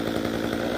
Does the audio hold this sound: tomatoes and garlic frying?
no